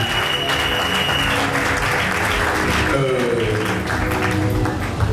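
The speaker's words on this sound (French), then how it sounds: "Est-ce qu'on peut bien acclamer le Seigneur?" Church congregation applauding and cheering to acclaim the Lord during a Sunday service, dense continuous clapping blended with crowd voices and music, loud and sustained.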